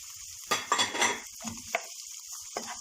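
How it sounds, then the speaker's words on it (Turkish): Red and green peppers being sautéed in a pan for a minced-meat vegetable börek filling, with a few sharp metallic scrapes and clinks of a utensil over a faint sizzle. "bir miktar kırmızı biberimizi kavurduktan sonra yeşil biberimi de ilave ediyorum"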